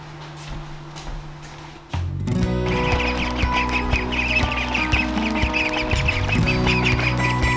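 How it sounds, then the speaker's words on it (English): Several domestic ducks quack and clamor loudly and continuously close by, with a rooster-like call in the mix, as they are fed peas outdoors. "I'm gonna run outside and give my ducks some peas"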